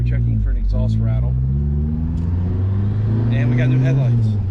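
An SVO Foxbody Mustang with newly fixed exhaust drives slowly on a test ride, its engine a steady close low rumble heard from inside the car as people talk over it.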